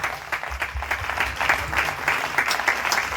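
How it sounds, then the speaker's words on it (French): A church congregation standing and clapping for the Lord, a dense, loud burst of many hands applauding steadily at close range throughout. "Outstanding and give a clap of it to the Lord."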